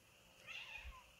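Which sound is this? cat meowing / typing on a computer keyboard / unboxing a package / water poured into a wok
cat meowing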